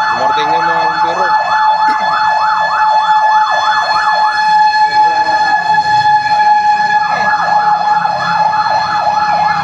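Fire truck sirens wail in a steady rising-and-falling cycle as fire engines arrive at a large blaze in Cubao, San Martin de Porres, loud and continuous over constant street noise, pausing briefly before resuming.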